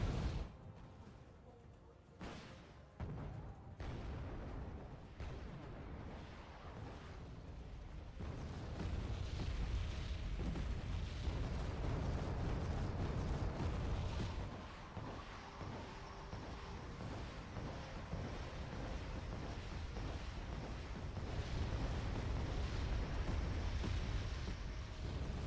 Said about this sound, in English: Those artillery units for multiplayer games are quite lethal